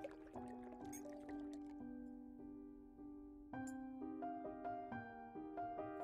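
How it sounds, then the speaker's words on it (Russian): Ambient sound in the horror game Tiny Bunny: soft, watery, bell-like plinks that drip in a slow uneven sequence, like tea being poured, quiet and steady with no voices. "У меня как будто в голове кто-то чай наливает."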